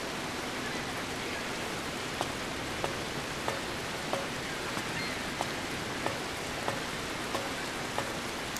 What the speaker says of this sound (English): No thunder or lightning, just a bunch of rain.